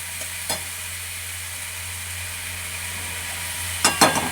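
Potatoes fry with turmeric and chilli powder in a pan, a steady low sizzle with a few sharp spatula scrapes and knocks near the start and end, close and without talk.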